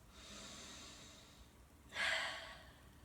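One deep, audible exhale during yoga practice, a soft breathy rush rising near the end after a quiet stretch of faint room hiss, close and alone.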